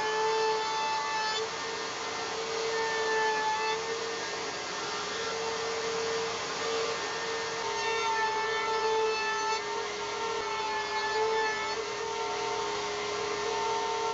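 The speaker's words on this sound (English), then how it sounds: "over at the router table, I could put a chamfer on all the outside edges" A continuous whining router cutting a chamfer along wooden edges, steady and loud, with a high motor tone and rasping grind throughout, no talking.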